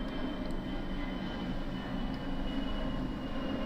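A train's steady, low roar fills the scene as it begins to pick up speed on a high road in Scotland, heard from inside a carriage as a continuous rumbling drone with no voices.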